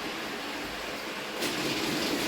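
A small model train rumbles steadily along its track with a continuous rolling whir that grows slightly louder near the end; the train has broken in two.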